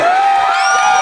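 A wrestling crowd in Harrisburg cheers and whoops for the referee Swole Jackson, a loud, sustained roar of many voices with high shouts riding on top throughout.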